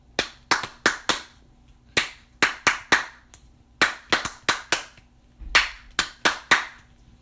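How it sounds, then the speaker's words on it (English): Sharp, close hand claps in loose bursts of two to four, separated by short pauses, sounding alone with no talk in a narrated tale about stars clapping together. "they started clapping together in unison"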